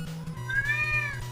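A cat gives a single drawn-out, rising and falling meow, close and clear over a low steady background hum, with no talk during the call.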